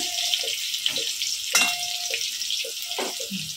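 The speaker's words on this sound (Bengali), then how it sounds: "এইভাবে আলুগুলোকেও লাল লাল করে ভেজে নেব।" Potatoes fry in oil with a bright, steady sizzle close by, punctuated by intermittent scraping clatters and a few knocks against the pan.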